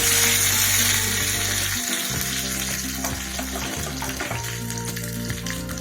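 Curry leaves sizzle and crackle in hot oil for tempering a coconut-free chutney, a close, steady frying hiss with small pops throughout.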